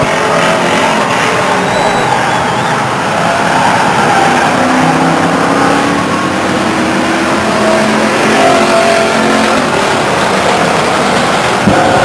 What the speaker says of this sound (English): So the 21 of Bowen is burning and churning.